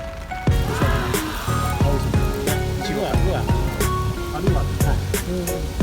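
Steady rain patters and drips under a highway overpass where people fish, a dense close hiss with sharp drip ticks, while someone talks over it.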